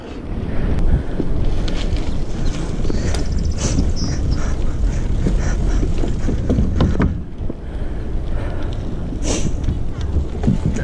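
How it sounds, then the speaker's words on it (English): Strong wind on a hill at Mori Point, Pacifica, California buffets the microphone in a continuous roaring rumble, with gusts rising and falling and faint voices occasionally underneath. "It's a windy hill."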